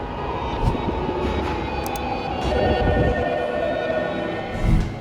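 A Tokyo metro train rumbles steadily with a broad, close roar, rising slightly midway, with a few sharp clacks and squeaks from the cars.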